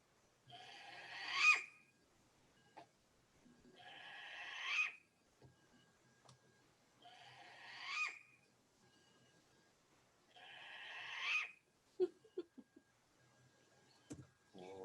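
Calls of a Hawaiian short-eared owl, or pueo, come as four evenly spaced, raspy, rising cries a few seconds apart against a quiet background, followed by a few faint clicks.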